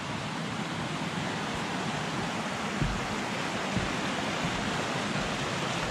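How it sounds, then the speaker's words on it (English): Steady rushing water, a continuous broadband roar from a creek flowing out of June Lake near Mount St. Helens, Washington, close by, with no voices. "Water's flowing good."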